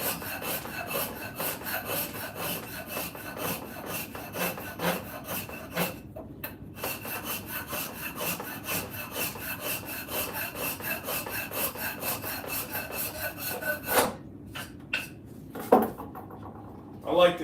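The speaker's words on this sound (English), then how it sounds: "I like to hit it with like 80 grit sandpaper just to smooth it out a little bit" Coarse 80-grit sandpaper rubs along a hickory axe handle in quick, steady back-and-forth strokes, close and continuous, with a couple of brief pauses and a few knocks near the end.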